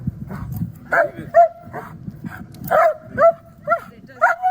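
A shepherd dog on a leash, worked up and reactive, gives a string of sharp barks and yips, close and loud, with a voice speaking under and between them.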